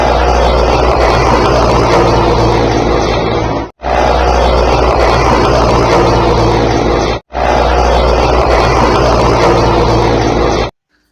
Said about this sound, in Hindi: CDS जनरल बिपिन रावत के हेलीकॉप्टर क्रैश होने से कुछ सेकंड पहले का ये दृश्य हम आपको दिखा रहे हैं।